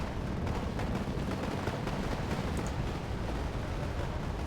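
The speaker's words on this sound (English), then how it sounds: "So AA is already starting to fire." Anti-aircraft guns firing in the wargame Wargame: AirLand Battle: a dense, continuous barrage of booming, crackling gunfire with no gaps, loud and steady throughout, with no voices.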